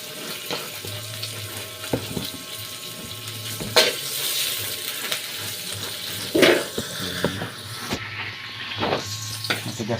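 Ground meat frying in a little oil in a home kitchen pan, a steady broadband sizzle running through the whole stretch with a few louder crackles and stirring scrapes, close and fairly loud, no talking.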